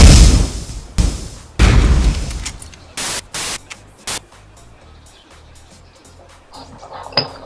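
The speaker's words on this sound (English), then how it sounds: "That was a nice explosion." A big explosion in the video game DayZ: several loud, sharp booming blasts with crackling bursts, followed by scattered clinks and debris over a noisy background.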